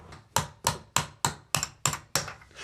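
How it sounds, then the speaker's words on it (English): Hammer striking a nail set to knock an old door off its hinges: eight sharp, evenly spaced metallic taps, close and clear, with no talk. "Remove the old door from the hinges with a hammer and nail set or screwdriver."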